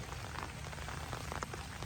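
Continuous rain falls on a farm garden with bougainvillea, a steady dense patter of drops on surfaces, fairly close and even throughout with no talking.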